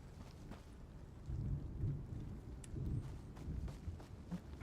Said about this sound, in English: I'm sorry, it's raining.